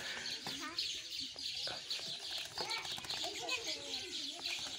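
A pet common myna calling with chattering, clucking notes and wing flaps as it flies to bathe in water, close and busy, with a person's voice talking over parts of it.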